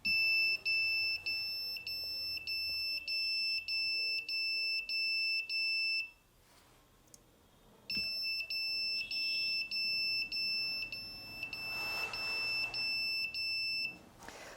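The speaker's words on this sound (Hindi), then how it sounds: "ये जो हमारा अलार्म जो है 10 या 15 सेकंड के लिए अभी ये चल रहा है" A vibration-sensor security alarm built around an ATtiny85 sounds a loud, rapid electronic beeping, a steady train of high piercing pulses that breaks off for about two seconds and then resumes until near the end, close by and with no talk.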